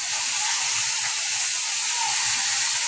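Fish heads fry in a pan with a steady, loud sizzling hiss that stays even throughout, close up and with no voices.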